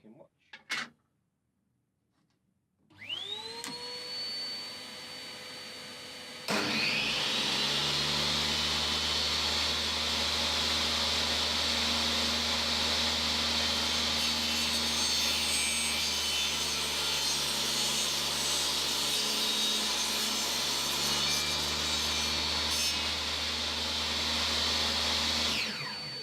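A table saw blade tilted to 25 degrees spins up with a rising whine, then bites into wood to cut a chamfer, holding a loud steady roaring saw-and-hum for about twenty seconds.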